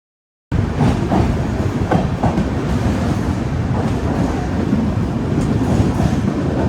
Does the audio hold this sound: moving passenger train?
yes